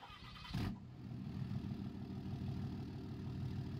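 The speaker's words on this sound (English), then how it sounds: "Let me get in this truck. Fire it up." A 445-horsepower pickup truck in Farming Simulator 22 cranks with a short burst and catches, then settles into a steady, fairly loud idle rumble that continues to the end.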